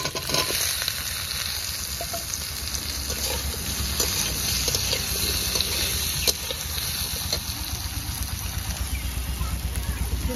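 Taro stolons (kochur loti) frying in hot oil in a heated kadai, a steady dense sizzle and crackle running the whole time at close range with no talking.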